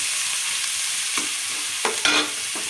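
Two large sliced onions sauté in a pan for prawn curry, making a steady close sizzle with a few brief scraping stirs.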